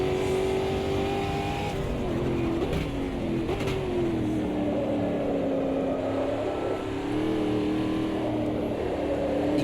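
A stock car engine in the Automobilista 2 racing game drones loudly and continuously, its pitch rising and falling slightly through corners, with a sustained engine tone and no speech.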